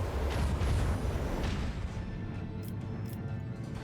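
Heavy macro cannon fire from a starship in Warhammer 40,000: Rogue Trader, a dense rumbling barrage that is loudest at first and then settles into a continuous low roar with sharper bursts near the end.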